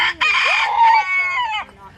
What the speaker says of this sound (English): Throw it out there for the chicken.